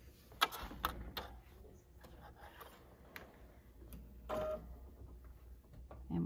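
A sewing machine runs in short bursts stitching quilt block pieces for a 1930s sampler block, quiet whirring runs broken by clicks and handling noises, fairly close.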